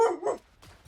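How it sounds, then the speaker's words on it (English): A dog barks twice in quick succession, loud and close, then a few quieter sounds follow. "why are we barking?"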